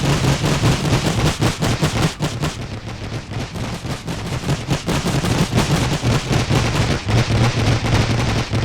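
Machine gun fire rattles loud and continuous in The Great War Mod, a World War I France versus Germany battle game, with dense overlapping bursts of shots and no speech.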